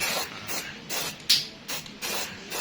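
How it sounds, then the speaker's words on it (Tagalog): Repeated short bursts of aerosol spray paint hissing onto a motorcycle chassis, about six close, evenly spaced sprays with brief pauses between them. "Ayan na, in-spray na."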